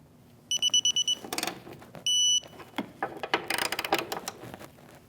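A hand ratchet with a 13mm socket works on the top hood hinge nuts of a 2016-2025 Chevrolet Malibu, giving bursts of rapid close clicking broken by short pauses and a couple of sharp metallic squeaks.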